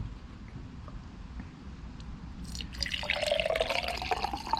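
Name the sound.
liquid poured into 1967 Mustang engine cylinder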